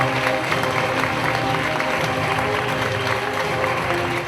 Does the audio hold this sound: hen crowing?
no